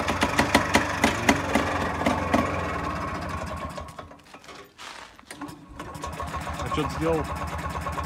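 A Tourist motor scooter with 28,000 km on it runs after starting, its engine chugging in a steady rhythm beneath a voice, loudest early on and then dropping lower before picking up again.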